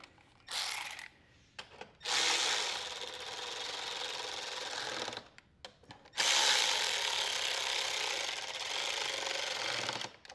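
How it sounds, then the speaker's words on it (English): A 5/16 socket ratchet drives the two fuel pump screws back into a John Deere S100 series riding mower, in two long stretches of close, steady clicking and whirring mechanical noise separated by short pauses. "Fuel pump had 2 screws with the 5/16 socket we'll put back on again."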